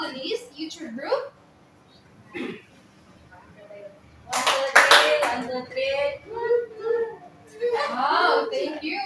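A short burst of hand clapping from a small group at a teaching demonstration, quick and close. Speech comes just before and after it.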